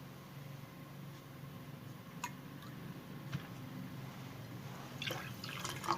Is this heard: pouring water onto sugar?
yes